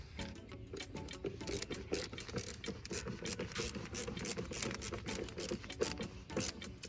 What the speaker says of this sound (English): Love this snap-on ratcheting screwdriver.